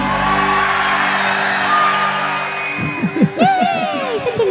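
Crowd at a Chhattisgarhi stage show shouting and whooping in greeting, loud bursts over a sustained music drone, with a voice rising near the end.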